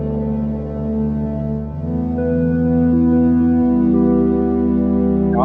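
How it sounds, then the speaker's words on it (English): A synth lead from an SP-404 MK2 sampler played in chromatic mode holds loud, sustained tonal notes that step to new pitches a few times, heard alone without any talking. "that's the sound of this little lead in chromatic mode over it."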